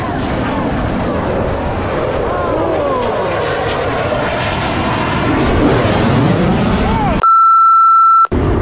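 Airshow aircraft converging on one spot in a flyover at Atlantic City, New Jersey, a loud roaring engine wash with shifting pitch sweeps as planes pass, ending with a steady electronic beep tone.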